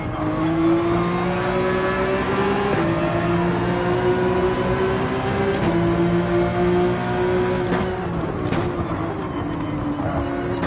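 Race car engine in Gran Turismo 7 driven gently on a damaged left tire, a steady loud droning hum with rising and falling pitch throughout, a few brief clicks, no talking.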